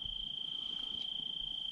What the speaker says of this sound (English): Sitting by the fire, listening to the crickets.